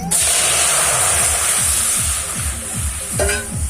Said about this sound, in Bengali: বন্ধুরা, কড়াইতে জল দিয়ে দিয়েছি রসটা তৈরি করার জন্য।